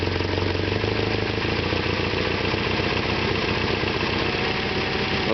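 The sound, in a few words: Isuzu 4ZE1 2.6L engine idling as distributor is turned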